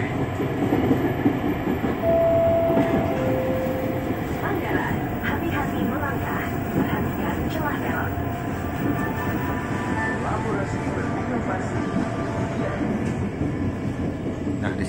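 A Jakarta Commuter Line train bound for Manggarai rumbles steadily along the tracks with continuous rolling noise and faint rattling, while a voice talks underneath.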